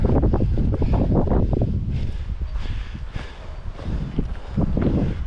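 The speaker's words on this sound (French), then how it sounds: "Et le vent souffle les gars là ici." Strong wind buffets the microphone on a hillside in the Côtes du Doubs near Biaufond, Switzerland, with loud, uneven rumbling gusts that swell and ease.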